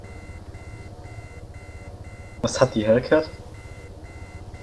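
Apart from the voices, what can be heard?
helicopter warning beep in video game Arma 3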